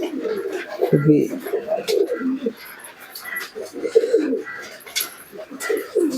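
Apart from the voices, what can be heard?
pigeons cooing while eating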